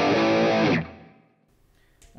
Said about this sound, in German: Habe ich hier wieder einen Boost, falls ich mal kurze Passagen habe,